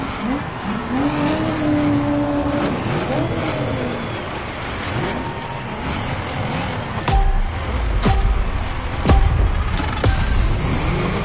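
Engine of a blue lowrider Chevrolet Caprice donk with gold wheels revving in a street racing video game, loud and continuous with rising and falling pitch sweeps, then sharper bursts and tire squeal toward the end, with faint talk underneath.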